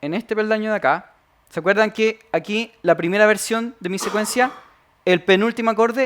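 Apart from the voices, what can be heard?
No everyday noise stands out behind the speech.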